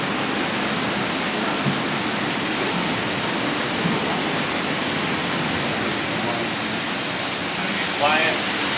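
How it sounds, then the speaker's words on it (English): Water rushing through a historic sawmill sluice gate roars in a steady, dense wash, loud and close, with faint brief voices surfacing near the end. "We'll have that water come rushing in."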